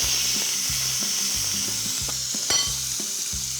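Rib eye steaks with a Dijon mustard crust sear in a hot pan, a steady close sizzle running throughout alongside a low rhythmic backing pattern.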